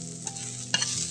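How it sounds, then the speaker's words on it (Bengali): Onions frying in a pan, a soft sizzle broken by a few scraping stirs, close by, with a low steady hum underneath. "আমার পেঁয়াজ ভাজা হয়ে গেছে, আর কড়া করে ভাজবো না"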